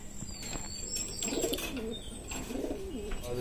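A racing pigeon in its loft gives soft, faint cooing phrases, two low rolling coos against a quiet background hiss.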